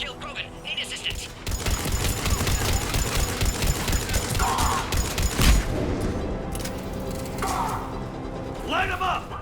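Sustained gunfire in Mass Effect 3, dense rapid automatic bursts and a heavy thump over loud battle noise, with game voices calling out under the shooting.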